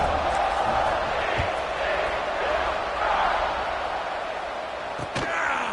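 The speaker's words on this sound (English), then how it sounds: "this crowd is buzzing after that last score" A football stadium crowd buzzes after a score in a game against Texas Tech, a dense, steady roar of many distant voices with a few sharp knocks, and some talk blends into the noise.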